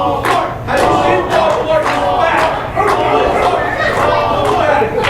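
Wrestling crowd in the Stronghold chanting in rhythmic unison at a security officer, loud repeated shouted phrases with a pulsing cadence over background crowd noise.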